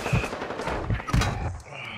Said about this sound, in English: Ah, shotgun.